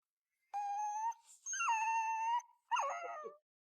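A puppy whimpers and howls in three drawn-out, high, tonal cries with short gaps between them, close and clear against silence.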